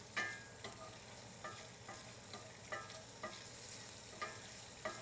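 Bacon sizzles in a pan with a steady frying hiss, broken by soft periodic scrapes or stirring clicks about once a second; fairly quiet and close, with no talk.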